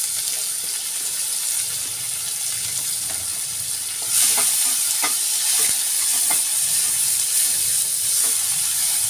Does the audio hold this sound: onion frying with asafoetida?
yes